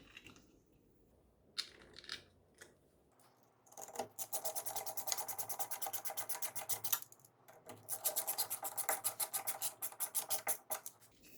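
A power drill drives screws through a floodlight camera's mounting base, starting with a few short bursts and then running in two long, buzzing runs that rise and fall in pitch, close by and fairly quiet, with no speech.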